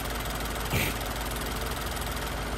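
Genesis NGT 5.0 engine idling after maintenance, a steady, close mechanical hum with an even rhythmic pulse and one brief louder blip.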